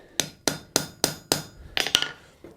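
Hammer blows on a forge-welded steel butt joint being straightened, about eight sharp ringing metallic strikes in a steady rhythm, close and clear with no talk.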